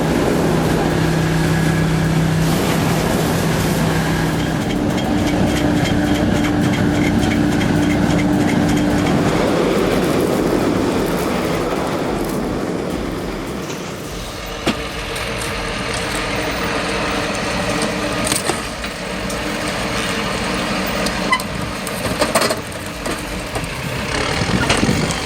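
A turbocharged LKT81 forestry skidder hauls a load of poplar logs, its heavy diesel engine droning continuously with a deep rumble and shifting load, joined by occasional clanks and knocks.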